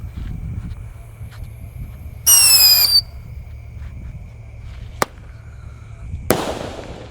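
A firework whistles upward with rising shrieks, a sharp crack follows, then a loud bang with a crackling burst, all set against quiet night ambience.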